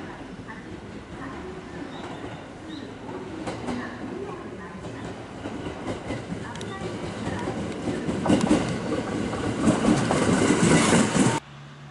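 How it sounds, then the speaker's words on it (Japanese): A JR 227 series train bound for Oji in Nara Prefecture rumbles in and grows steadily louder, wheels clattering over the rails before the sound cuts off abruptly near the end. "王子行きの227系が来たね。"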